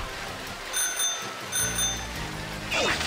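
A bicycle bell in the video game Pokemon Shield rings twice with bright, short dings, then a brief higher jingle follows over a soft hissing background.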